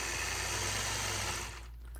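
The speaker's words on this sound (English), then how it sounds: "Now I'm going to repeat the process of stitching those curved lines through the yellow all the way across the block" Steady mechanical whir of a sewing machine quilting curved lines through yellow fabric across a patchwork block, running evenly close by for most of the moment before easing off near the end.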